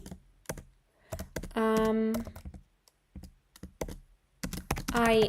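Close, quick keystrokes on a computer keyboard tap out a message in a chat in uneven bursts, with a voice briefly speaking in between.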